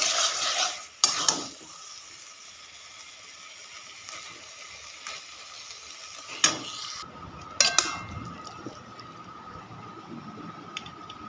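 Taro leaves fried with shrimp are stirred in a pan: a steady close sizzle runs under scraping strokes, and a few sharp utensil knocks against the pan stand out. No one speaks.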